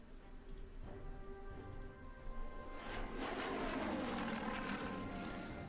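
A WWII aircraft engine in the Order of Battle World War II strategy game, a droning roar that swells and grows louder toward the end, with a few faint ticking clicks early on.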